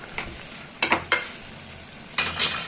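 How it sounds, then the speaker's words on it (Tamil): Onions stirred in hot oil with spices for vegetable biryani, a quiet sizzle broken by a few sharp spoon scrapes and clanks against the pan. "இப்போ இந்த வெங்காயம் போடுறேன்."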